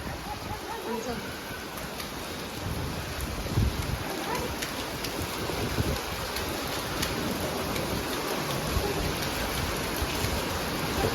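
Steady rain pours down in a dense, continuous hiss, with a broad wash of patter that swells slightly partway through and holds throughout.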